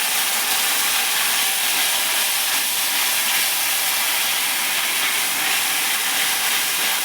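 Mango chutney sweetened with batasa sugar drops bubbles hard after water is poured over the melted sugar, giving a loud, continuous hissing boil that runs without a break.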